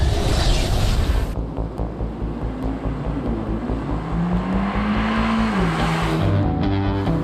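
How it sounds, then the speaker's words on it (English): Hyundai Elantra N-Line driving on a test drive, a steady loud engine and road drone with rising and falling tones as it accelerates, with no talk. "here's our test drive of the all-new Hyundai Elantra N-Line."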